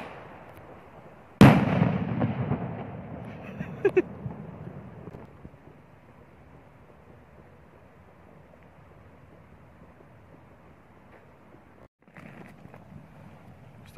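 Consumer New Year's firework cake rated at 100 shots, heard outdoors at night: a loud sudden burst followed by crackling pops and decaying booms, then a long quieter stretch with faint distant bangs and a brief later flurry.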